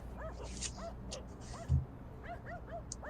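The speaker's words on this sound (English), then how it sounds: "this ambience has dogs barking" Dogs barking and yipping in the background ambience of a video game, several short faint barks scattered over about three seconds against a steady low hum.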